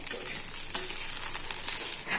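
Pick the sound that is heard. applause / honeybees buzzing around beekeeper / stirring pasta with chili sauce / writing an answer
stirring pasta with chili sauce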